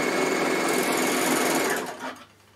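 A Bernina L450 overlocker sewing at high speed gives a loud, continuous mechanical buzz that slows and winds down near the end, followed by a faint final whir.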